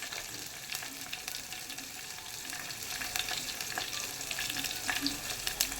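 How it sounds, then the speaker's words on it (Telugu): Ginger pieces sizzling in hot oil for majjiga charu, a steady soft crackle and hiss with scattered pops, close and faint, briefly stirred. "తర్వాత కొంచెం అల్లం ముక్కలు వేస్తాను ఫ్రెండ్స్"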